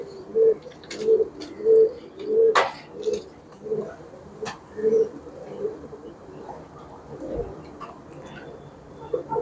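Chinese pigeons cooing as they are let out, a run of about eight soft, evenly spaced coos repeating near the listener, with a few sharp chirps and faint background noise between them.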